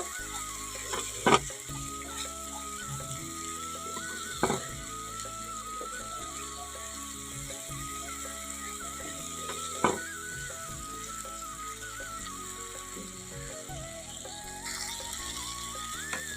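Masala being stir-fried in a pan for a chickpea and potato curry, a faint continuous sizzle under a steady mechanical hum, with a few scattered clinks of the spoon.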